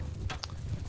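Horse hooves in a video game battle event, a few muffled clip-clop thuds over a steady low rumble, brief and mid-distance.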